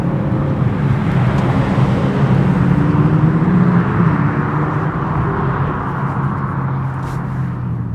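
A BMW M2 G87 with its catalytic converter and particulate filter still fitted drives along, its engine and exhaust holding a steady, loud, continuous drone with no voices over it.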